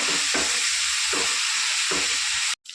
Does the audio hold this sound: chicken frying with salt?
yes